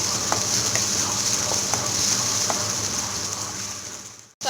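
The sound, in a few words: sautéing ginger garlic paste with onion and curry leaves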